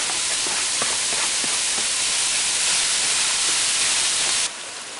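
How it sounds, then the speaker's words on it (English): A pound and a half of 80/20 ground beef with finely diced onion browns in a pan, giving a loud, steady sizzling hiss with faint crackles that drops away at the very end. "I have a pound and a half of 80/20 ground beef. I'm going to get that in there and brown that up."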